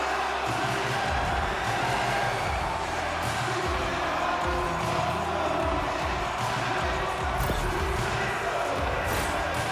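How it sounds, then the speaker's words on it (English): Hockey arena crowd in the video game NHL 25 gives a continuous loud roar of cheering and chatter, with a commentator talking over it. "You can feel the energy in this crowd."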